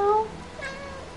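A cat meows in the video game Stray, a short, bright mew at the start followed by softer room tone and a faint second murmur.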